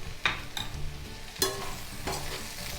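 Capsicum, brinjal and potato pieces sauté in an open pan under a soft, steady sizzle. A spoon stirs and knocks against the pan several times at uneven intervals, and nobody speaks.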